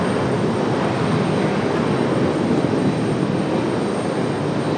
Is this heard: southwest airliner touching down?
yes